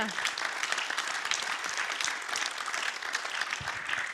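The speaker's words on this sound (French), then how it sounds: "Merci beaucoup, on peut tous les applaudir." Audience applauding committee members at a formal ceremony, a steady wash of many hands clapping heard from a distance, sustained from start to finish.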